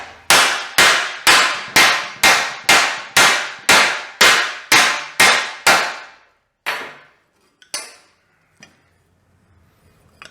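A hammer strikes a metal throttle plate on a bench to flatten it, a dozen loud ringing clangs in a steady even rhythm, followed by a few slower, scattered blows and light taps.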